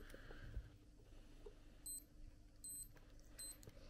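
Faint, thin electronic beeps from a children's watch sound in three short bursts at even intervals over a quiet room hum.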